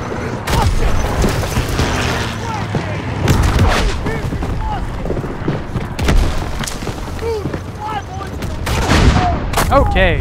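Gunfire in Call of Duty: WWII during the Battle of the Bulge, with repeated rifle and machine-gun shots, booming blasts and whizzing rounds in a loud, chaotic fusillade, voices faintly mixed in.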